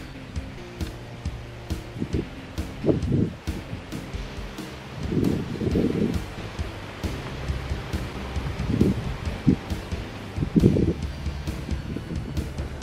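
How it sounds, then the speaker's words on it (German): Gusty wind buffets and rumbles against a microphone outdoors on the Lulluspfad hiking trail between Schlierbach and Frielendorf, Germany, swelling in several bursts over a low steady background. "Moment windet es mal wieder ein bisschen"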